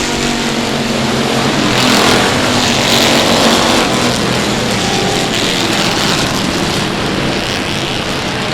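A pack of race cars roaring at a green flag start on a South Texas speedway, engines accelerating in a loud, continuous wash of sound with no talking.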